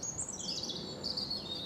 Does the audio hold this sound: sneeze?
no